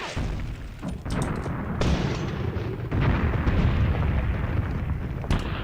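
Dense artillery bombardment in the tank battle game Tank Warfare Tunisia 1943, heavy booms and rumbling explosions rolling continuously and loudly, with overlapping thuds and no talk.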